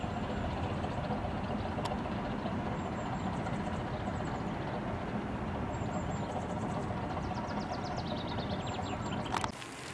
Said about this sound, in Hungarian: Aj, de szép hangja van a motorjának.